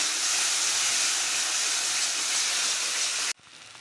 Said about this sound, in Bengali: এবার আমি আবার কষিয়ে নেব।